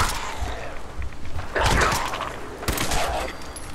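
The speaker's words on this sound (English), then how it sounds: "I can hear the gunshots going on in the background." Gunfire in the video game Fallout 4, heard as a few loud, sharp bursts over a steady game ambience, the biggest near the middle of the clip and another shortly after.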